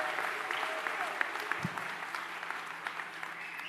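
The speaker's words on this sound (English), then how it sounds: "Let's give her a round of applause for her good work." Audience applause at a town hall meeting with the mayor, a fairly steady spread of clapping that carries on for the full stretch at moderate distance, with a voice briefly audible.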